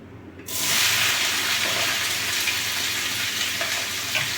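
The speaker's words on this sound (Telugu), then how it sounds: "బెండకాయ ఫ్రై చేసుకుంటాను." Okra dropped into hot oil with turmeric and salt, a sudden loud sizzle bursting in after a brief quiet start and holding steady and close.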